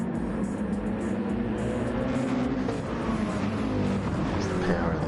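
A Mercedes-AMG race car in a racing game at Fuji, its engine roaring steadily and loudly as it pulls out of corners, a continuous dense drone with shifting pitch and no break.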